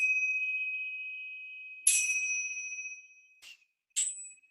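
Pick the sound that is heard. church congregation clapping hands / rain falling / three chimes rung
three chimes rung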